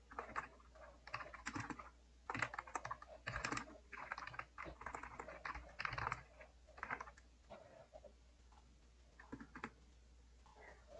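Someone types a sentence on a computer keyboard in bursts of rapid, close key clicks with brief pauses between words, easing off toward the end.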